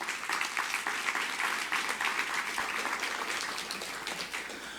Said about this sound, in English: So a round of applause for her as well.